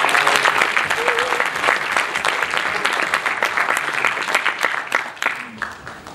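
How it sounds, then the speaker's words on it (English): A hackathon crowd at Oxford Hack 2019 gives a steady, full round of applause that stays strong throughout and fades slightly at the end, with a voice talking over the clapping. "let's just take a moment to give them a round of applause"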